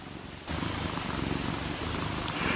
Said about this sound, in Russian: Он так классно мурчит.